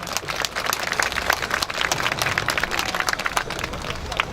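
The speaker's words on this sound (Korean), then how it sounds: "다시 한번 뜨거운 박수 부탁드리겠습니다." A crowd claps warmly at a memorial gathering in Daejeon marking the first anniversary of the Sewol ferry disaster. The applause is dense and continuous, with faint murmuring beneath it.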